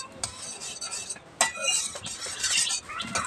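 A spoon stirs a boiling powdered-milk mixture in a metal pot for mango doi, scraping and clinking against the sides in short irregular strokes, fairly close and moderately quiet.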